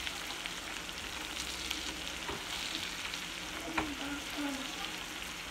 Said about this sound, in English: And now you just let these fry.